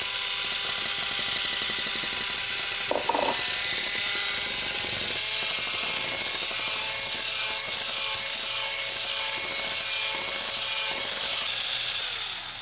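Electric hand mixer whirring as chocolate is beaten into brownie batter, a steady high-pitched motor drone that runs continuously at constant loudness with little change.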